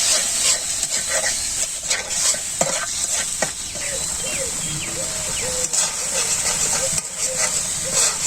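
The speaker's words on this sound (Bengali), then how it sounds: "হলুদ সর্ষে এখন দিয়ে দেবো ভালো করে কষামি" Turmeric and mustard paste sautéed with spices in a village kitchen, a steady close sizzle and hiss with stirring scrapes throughout, a faint voice occasionally underneath.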